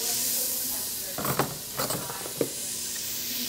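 Bacon is searing in a pan, giving a steady hiss with a few sharper sizzling bursts over a low background hum in a cooking class kitchen.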